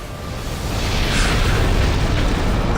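A deep, sustained rumbling explosion from the video game Armored Core: for Answer swells and roars on for several seconds, dense and loud with no voices.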